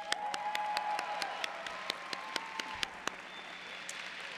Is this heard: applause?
yes